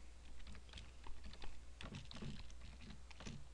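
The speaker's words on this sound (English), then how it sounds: "We'll use the command prompt and we'll type in" Keys clatter on a computer keyboard as a command is typed into the command prompt, a quiet run of irregular close clicks and taps with brief pauses between them.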